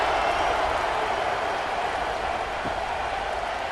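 A stadium crowd in the College Football 26 game gives off a dense, steady roar and buzz that holds at an even, loud level throughout, with no clear individual voices.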